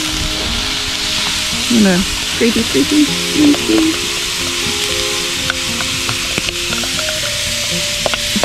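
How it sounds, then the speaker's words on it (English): Diced carrots, onions and celery sizzling in a Dutch oven for beer cheddar soup, a loud steady frying hiss with a few clicks and stirs, and a brief spoken word partway through. "I'm just adding the vegetables. So I have snow-filled carrots, onions, and celery that I've diced."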